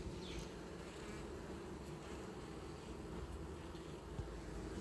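A dense, steady hum of many honey bees buzzing together during an autumn hive inspection, low and continuous, with no voices.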